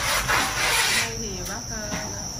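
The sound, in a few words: crickets in a cricket farm box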